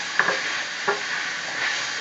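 Meat sizzling in a pan for a cheesesteak, a steady close frying hiss with a few brief scraping stirs of a spatula, no talk.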